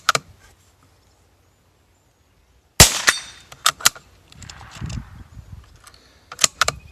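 A Savage MkII rifle fires CCI 40 grain high velocity rounds outdoors, with one sharp crack at the start and a second loud report a few seconds later, followed by several quick metallic clicks and handling noises at close range.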